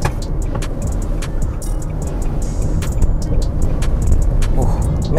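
Inside a Nissan Serena C27 driving at 40 km/h: a steady low road and engine rumble with tire noise, close and continuous, with faint interior rattles and clicks.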